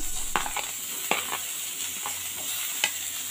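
Chana and biri fry in a pan with a soft continuous sizzle, broken by several distinct scraping stir strokes at an uneven pace.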